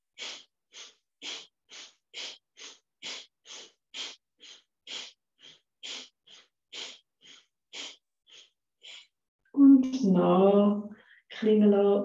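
Forceful active breathing exercise with the focus below the navel: about twenty sharp, evenly spaced breaths in and out, close and alone, followed by a voice speaking at the end.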